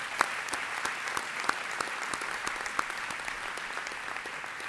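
An audience at a university presidential inauguration applauds faculty, a close, steady patter of many hands with a few sharper individual claps standing out.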